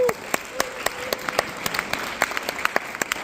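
An audience applauds a speaker at a talk, a close, steady patter of many hands clapping briskly throughout.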